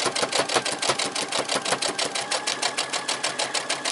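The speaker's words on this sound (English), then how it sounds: "let's sew our stitch in the ditch from edge to edge." Sewing machine stitching in the ditch across a beginner's pre-cut fabric quilt, a steady rapid mechanical chatter of needle strokes that runs evenly throughout, close and loud with no talking.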